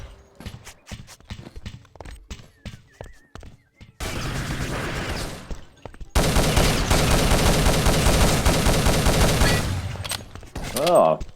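Video game firefight with grenades: sparse sharp shots give way to a sustained roar of rapid gunfire and blasts, loud and dense, with a burst of voices near the end.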